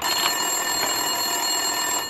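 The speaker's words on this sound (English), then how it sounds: "Winterson's phone was ringing." A telephone rings on a desk in an office in the video game Max Payne 2, a steady electronic trill heard alone over a faint background hum.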